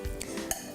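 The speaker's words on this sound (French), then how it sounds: "là, je vais mélanger" Utensil stirring a hot ricotta mixture in a pot, a few quick clinks and scrapes within under a second, close and fairly quiet.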